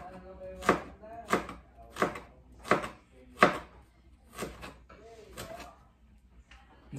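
A knife slicing pork on a cutting board for dinuguan, seven or eight sharp, evenly spaced chops about a second apart, close and clear, with faint scraping between strokes.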